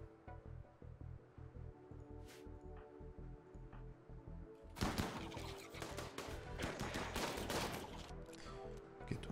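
Gunfire from a RimWorld siege battle: after a quiet stretch of steady music, a sudden burst of overlapping rapid shots and impacts starts midway and keeps crackling densely to the end.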